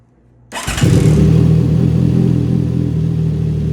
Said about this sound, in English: we'll start up the bike.